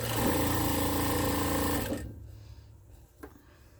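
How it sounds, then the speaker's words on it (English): A sewing machine stitches the ends of quilt fabric strips for a Christmas Trip Around the World quilt, running loud and steady for about two seconds, then stopping and leaving a quiet room with a faint click. "And sew on each end of fabric number 3."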